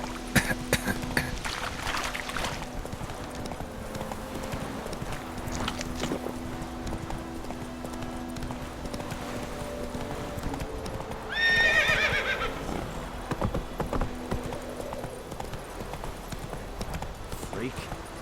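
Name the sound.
Roach the horse trotting and neighing, from video game The Witcher 3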